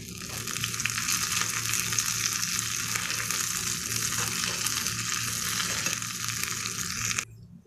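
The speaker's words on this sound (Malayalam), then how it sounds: "ചെറിയുള്ളി ഇവിടെ മൂത്ത് ഇങ്ങനെ വരാൻ തുടങ്ങിയിട്ടുണ്ട്." Small red onions frying in hot oil for a Kerala-style beef curry: a loud, steady sizzle and crackle close up, with occasional stirring, that stops abruptly near the end with no talking.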